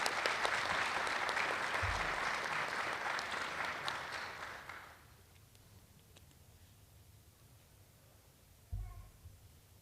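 A school audience at a student recognition ceremony applauds the students with a burst of many hands clapping, fairly loud at first, then fading away after about five seconds into quiet room tone with a couple of soft thumps.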